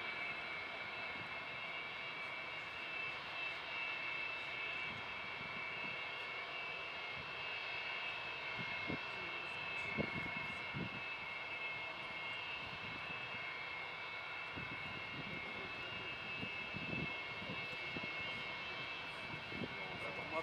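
An Antonov An-225 taxis at Leipzig-Halle airport, its engines a steady distant turbine whine and roar with a sustained high tonal hum, heard continuously throughout with faint background noise.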